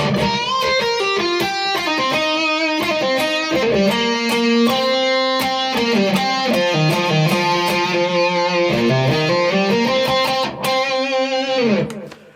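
A distorted electric guitar plays a fast solo line alone, with notes bending upward in pitch between quick picked phrases, loud and continuous.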